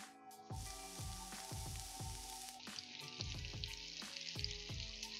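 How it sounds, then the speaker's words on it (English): Prawns frying in a hot pan for a burger recipe: a steady, loud sizzle with crackling pops, punctuated by repeated ringing metallic knocks of the pan or utensil, close and with no talk. "So the prawns cook really quickly, so do pick them up the moment they are nice and crispy."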